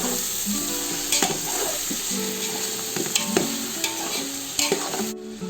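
Three large tomatoes fry and sizzle in a pan for Ambur-style country chicken biryani while a spoon stirs them, a steady close hiss broken by several scraping, clattering strokes of the utensil.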